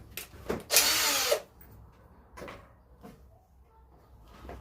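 A small power drill with a 1.5mm bit bores screw holes in the rear cavity of a Gibson Les Paul guitar, with one loud whirring burst and a few shorter, fainter bursts close by.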